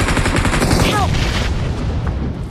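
Loud, dense gunfire and explosive blasts from a PUBG match fill the whole moment, with rapid overlapping shots and voices faintly mixed underneath.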